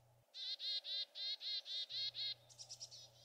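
Chickadee alarm call: a run of seven sharp, buzzy harsh notes in quick even succession, followed by a softer cluster of quick chips, close and clear over a low steady hum.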